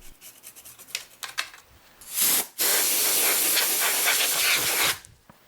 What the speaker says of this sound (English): I scrubbed multiple times before blowing it dry with compressed air